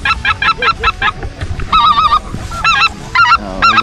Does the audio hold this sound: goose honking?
yes